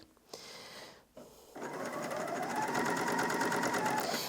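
A Bernina L460 overlocker stitching along a fabric edge: a few brief starts, then a steady rapid mechanical whir that runs continuously and close, with no talk.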